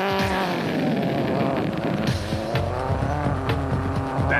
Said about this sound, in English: That Univate Ford Ranger sounded like it was asking for more.